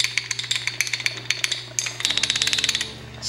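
Loose, wiggly motorcycle kick-starter lever rattling and clinking in quick metallic bursts, a rapid chattering run of close, bright taps over a low steady hum, with no talking.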